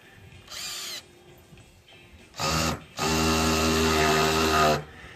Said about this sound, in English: So you're drilling through the 2x3 14 gauge, and you're running in the exterior Torx 1 5/8.